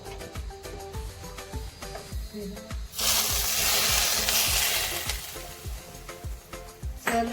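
Hot ghee for tempering bursts into a loud, steady sizzle midway through, hissing continuously over a rhythmic background beat.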